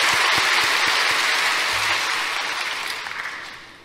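Applause from a church congregation during a Korean sermon: a loud, full burst of dense clapping from a large crowd that gradually thins and fades toward the end, with no talking over it.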